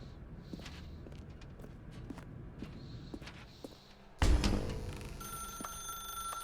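A telephone in The Stanley Parable game suddenly starts ringing with a loud, sharp electronic bell after a stretch of soft footsteps, then keeps ringing steadily.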